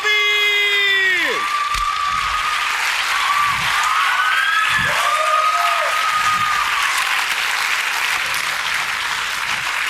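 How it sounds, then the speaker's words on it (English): An audience at a live comedy show breaks into applause, a dense wash of clapping with a few whoops, lasting throughout, while whistle-like tones sweep down at the start and scattered thumps sound underneath. "Give them a round of applause."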